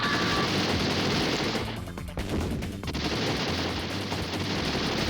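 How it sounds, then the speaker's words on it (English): Continuous gunfire from the 3DO video game Demolition Man, loud and dense throughout, with a brief dip in the middle as shots target a ceiling panel and chandelier. "Here you shoot the little panel until the chandelier comes down enough, and then you can shoot the chandelier"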